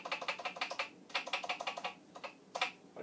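Typing on an old Commodore VIC-20 with a PET-style keyboard, woken up after almost 40 years: crisp, close clicking keystrokes in quick bursts with short pauses between, heard alone.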